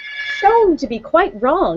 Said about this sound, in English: that was my phone suddenly started ringing